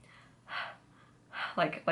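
A person imitates someone out of breath, taking a few quick, short gasping breaths at close range. Soft and breathy, without words.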